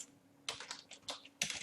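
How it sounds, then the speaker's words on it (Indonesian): Several bursts of close computer keyboard typing, entering a cell reference into an Excel VBA formula, separated by short pauses. "Jadi teman-teman silakan ketikkan C3 range"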